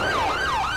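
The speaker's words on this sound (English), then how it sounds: "Let me just go ahead and turn off the siren. Oh my gosh, so loud." Police car siren in the video game GTA 5: a loud wailing tone that sweeps up and down in steady cycles, heard alone with no talking.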